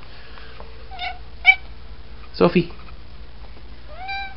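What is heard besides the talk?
cat meowing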